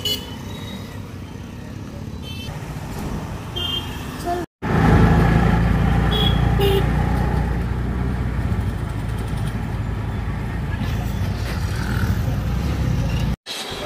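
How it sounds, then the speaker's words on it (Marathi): An auto rickshaw ride through Airoli streets, with a steady engine drone, road traffic noise and occasional honking horns from nearby vehicles, with two brief cuts. "आणि आता आम्ही रिक्षाने चाललोय"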